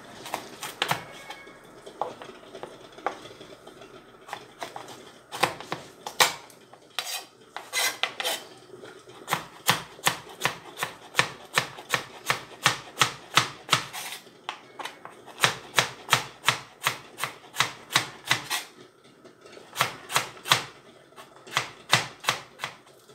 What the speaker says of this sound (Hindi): अब सबसे पहले जो है ना वो हम गाजरें काट लेंगे, कुरतार कर लेंगे गाजरों को।